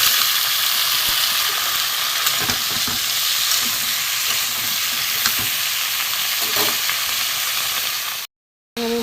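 Prawns and pumpkin frying in a pan give a steady, loud sizzle and hiss throughout, with occasional scraping stirs, cut briefly by a short gap near the end.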